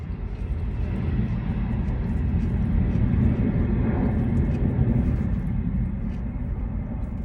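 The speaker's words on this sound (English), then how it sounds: "you guys can enjoy watching the planes land" Airplanes landing nearby, heard as a steady low rumbling jet roar that swells slightly in the middle and persists throughout, with no talking.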